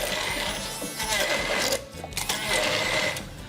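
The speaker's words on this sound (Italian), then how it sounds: "Attacchiamo e andiamo a frullare" A small electric blender motor whirs close by with a high, steady whine that briefly dips and surges as it blends.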